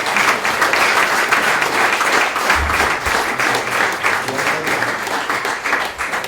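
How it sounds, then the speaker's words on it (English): An audience at a founders business conference applauds an award-winning investment company, loud continuous clapping throughout with faint crowd murmur and a brief low thump midway. "Can we get a clap for CrossFit Holdings"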